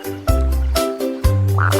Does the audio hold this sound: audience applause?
no